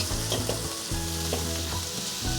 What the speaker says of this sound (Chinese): 玉米也一起放进来，把所有食材翻炒均匀